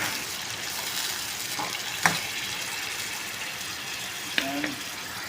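Onion and sardines sautéing in a pan, a steady close sizzle with a couple of sharp clinks of a utensil against the pan, no speech.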